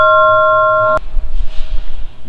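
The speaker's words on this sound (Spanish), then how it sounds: "Miren, acá está esta gran campana." A large bell at an abandoned train station rings with one loud, sustained tone that is cut off abruptly by a heavy clunk, followed by quieter rustling and handling noise.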